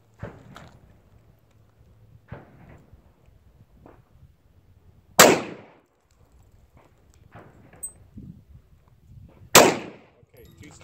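Two loud gunshots at an outdoor shooting range, spaced several seconds apart, with quieter shuffling, footsteps and faint talk between them.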